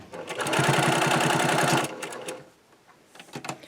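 A sewing machine stitches binding onto a quilt, running in a steady fast whir for nearly two seconds before stopping, followed by softer handling clicks and rustles.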